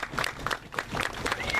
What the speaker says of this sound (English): Let's give Sandy Arena and the Life Ballet one more round of applause.